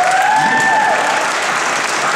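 A convention crowd at a Power Morphicon panel claps loudly and steadily, a dense wash of applause filling the room from start to finish.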